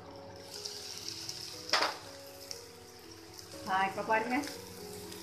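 Potatoes for aloo fry sizzle softly in a covered pan over low heat, a steady close hiss with a couple of brief clattering bursts, while a voice talks briefly.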